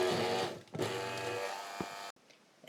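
A blender purees bananas with a loud, dense whirring motor buzz that briefly dips, resumes, then cuts off abruptly near the end, with no talk.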